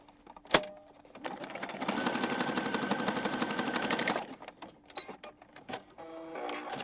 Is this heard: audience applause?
no